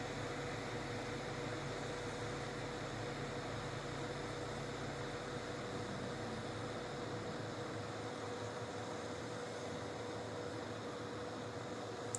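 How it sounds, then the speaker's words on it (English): A Stoke Voltaics Joulle electric kettle powered by a Jackery 1000 Plus, nearly boiling, gives a steady quiet hiss and rumble of heating water with a faint constant hum, unchanging throughout. "It's almost boiling."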